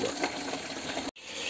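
Tap water rushing steadily into a container while filling, a continuous broadband gush with a brief cut-off just past the one-second mark before flowing again.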